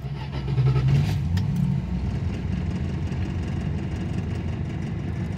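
A 1974 Dodge Dart engine, just started after five years of sitting, runs at a fast idle, loud and steady with a deep low rumble that swells briefly early on, then holds an even throb throughout.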